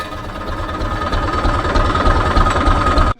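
A Massey Ferguson 135 tractor engine idling up close, loud and steady with a rapid low thumping pulse and mechanical knock, running alone until it cuts off abruptly at the end.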